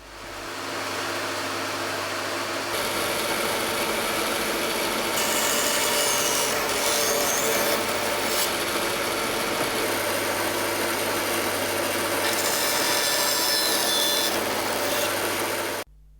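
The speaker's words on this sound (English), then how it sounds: "I could have done this on the bandsaw, but because these pieces are so long, it'd be a bit unwieldy, so I just do it with a handsaw." Handsaw cutting the shoulders of a bridle joint in long wooden pieces for a solar frame, a steady rasping back-and-forth sawing that runs continuously and close for about sixteen seconds with no talk.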